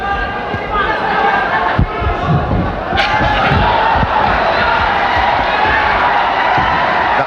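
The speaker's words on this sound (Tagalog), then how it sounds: "The crowd egging on Pacquiao." A large boxing crowd roars and cheers during a Manny Pacquiao fight, a loud continuous swell with scattered sharp impacts and a commentator talking over it.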